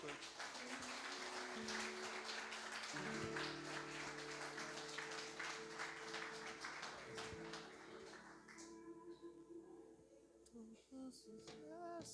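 Church congregation applauding at an evening service, a dense, steady wash of clapping running for about twelve seconds beneath sustained keyboard chords and scattered voices, thinning out near the end.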